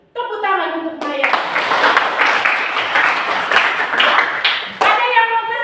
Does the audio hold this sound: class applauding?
yes